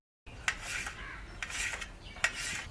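A knife cuts fresh aloe vera leaf into small pieces, giving a few sharp close strokes and wet rubbing scrapes against a board, with no voices.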